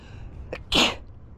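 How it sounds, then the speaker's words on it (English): A single loud sneeze, preceded by a brief sharp intake of breath, close by against a quiet background. "Teak dust makes me sneeze every time."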